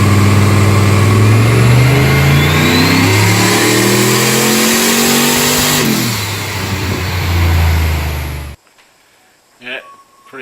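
A turbocharged LS V8 engine on a dyno revs hard and loud, its pitch climbing and falling in long sweeps. It then cuts off abruptly, leaving a few faint sounds and brief talk.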